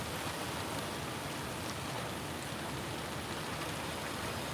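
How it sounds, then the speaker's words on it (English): Heavy rain pours at the SpaceX Starbase launch site in Boca Chica, Texas, as a steady, even hiss of water falling across the whole clip with no talk. "I don't know how many days it's been raining here."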